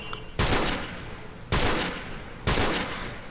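Three loud rifle shots at roughly one-second intervals, a weapon likened to the M14, each crack hitting sharply and rolling off in a long echoing tail.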